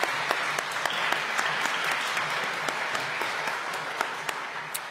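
A church congregation at a worship service applauds second graders, with sustained, even clapping that fills the room and includes a few sharper individual claps.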